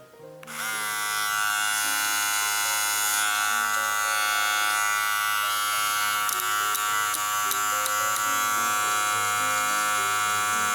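A Philips HC5630 cordless hair clipper switches on and runs alone with a loud, steady, high-pitched electric buzz that holds unchanged throughout.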